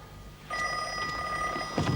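A telephone rings with bright, steady tones that start about halfway through, sounding clearly in an indoor scene from an Iraqi TV drama. A brief low thump comes near the end, and no one speaks.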